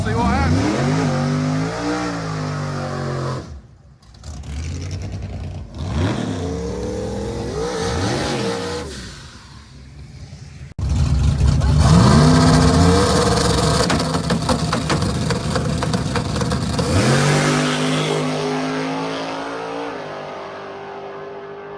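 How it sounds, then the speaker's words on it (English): A Chevy S10 at a no-prep Extreme Street drag race revs and roars, its engine pitch sweeping up and down through shifts and then holding a loud sustained run. "Dropped a little S10 over here, Trevor."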